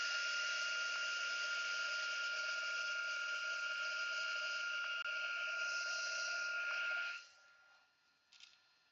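A heat gun blows steadily for about seven seconds while melting embossing powder on a ribbon pinwheel card, a loud, even whirring hiss that then cuts off, followed by a faint click.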